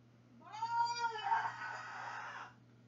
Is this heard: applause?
no